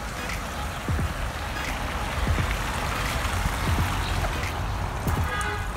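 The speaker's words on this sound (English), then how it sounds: "I have a hose going into that terracotta pipe, which is creating that stream." A backyard garden creek lined with tarp and brick, fed by a hose running through a terracotta pipe, babbles and splashes continuously up close, with a steady watery rush and occasional gurgles.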